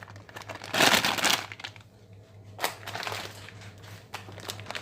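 A 500 gram bag of candied citrus peel is tipped into a bowl for homemade mincemeat, giving a loud crinkling, rustling burst near the start, then a shorter crackle and fainter plastic rustles.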